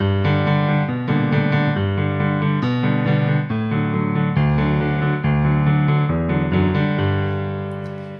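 Piano playing a blues-style accompaniment of steady repeated chords over a low bass line, in a New Orleans style; full, even and continuous, with no talking.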